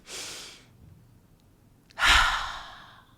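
Two slow, breathy exhalations during a meditation, the second louder and longer, close to the microphone, with quiet pauses between them.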